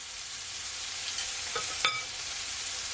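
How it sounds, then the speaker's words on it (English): Vegetables and fresh thyme sautéing in a pan for Jamaican pepper steak, with a steady soft sizzle throughout and a couple of brief stirring scrapes midway. "Just gonna leave it to saute for at least 30 seconds"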